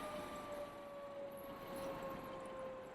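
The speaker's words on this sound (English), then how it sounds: "And excuse the siren." An emergency vehicle siren wails faintly outside in Mountain View, a steady distant tone held under low background noise with no talking.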